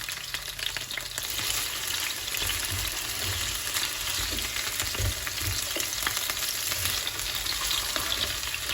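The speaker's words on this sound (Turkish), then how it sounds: "Şu patatesleri de birazcık yağda kavuracağım." Potatoes frying in a little oil in a pan, a steady close sizzle with faint stirring scrapes running throughout and no talking.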